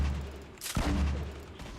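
A grenade launcher in Fortnite fires as a single sharp boom followed by a shorter crack, both heard faintly over a low background rumble.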